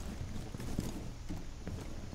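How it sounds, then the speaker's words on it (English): Footsteps sound in the Rainbow Six Siege video game, soft clip-clopping thuds spaced irregularly over a steady background hum, faint and somewhat distant, with no talking. "Hear footsteps."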